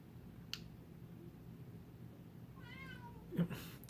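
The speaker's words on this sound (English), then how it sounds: "you're going to hear my cat yelling right now because I am in the office with the door shut" A house cat meows from behind a shut office door, a muffled, faint cry late in the quiet, with a soft click earlier.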